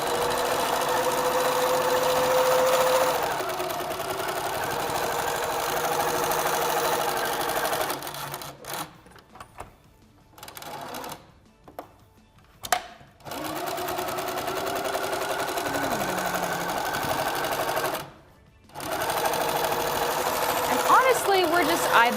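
A Little Rebel sewing machine stitches steadily through bulky quilted seams, humming close, pausing briefly and starting again, with a voice talking over it.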